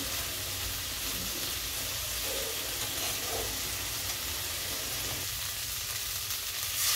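Turmeric, chili and cumin spice paste with a pinch of sugar frying in a pan while being stirred, giving a continuous, moderately loud hissing sizzle with faint scraping, no talk.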